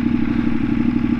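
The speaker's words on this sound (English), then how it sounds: "The sound of that V-twin though versus those inline fours, it's a big difference." A 2013 Ducati 848 EVO V-twin engine runs with a steady, loud, deep throbbing rumble, close and continuous without talk.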